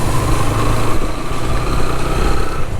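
Motorcycle engine running while riding along the road beside Mangla Dam near Mirpur, a steady droning hum with wind noise, loud and continuous.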